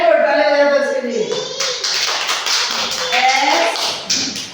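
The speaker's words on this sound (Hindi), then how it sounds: "ताली बजा दो इसके लिए" Young schoolchildren in a class clap their hands together, a burst of quick taps that starts in the middle, while a teacher speaks over and around the clapping.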